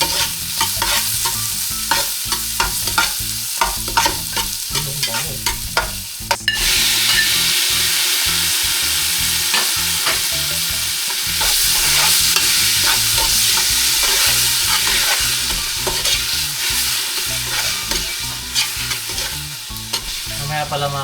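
Garlic sautéing in a pan while cooking sinigang, a loud, steady sizzle and frying hiss with stirring scrapes, continuous throughout and with no talk over it.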